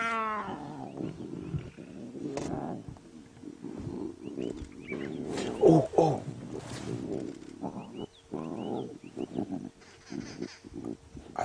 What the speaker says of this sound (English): Difficult to hear of all the noise the cubs are making.